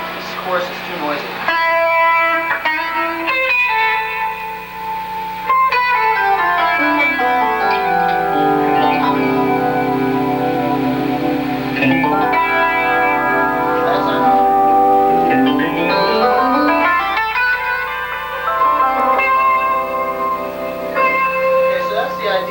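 Clean electric guitar with a chorus effect plays sustained chords and descending then rising major-scale runs, steady and fairly loud with no talking.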